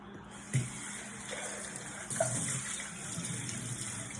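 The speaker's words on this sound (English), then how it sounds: "now I will wash my bowl." Running tap water pours steadily into a sink while a sticky bowl is washed beneath it, with a couple of soft knocks of the bowl against the basin, close and continuous.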